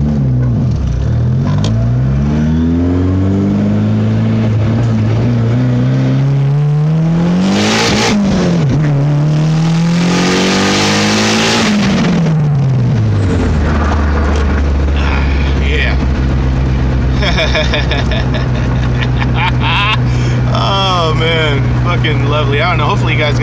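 A turbocharged car accelerates hard through rising and falling gear pulls, with a loud burst of whooshing as the wastegate opens and dumps mid-run, then settles to a steady drone; someone talks over it.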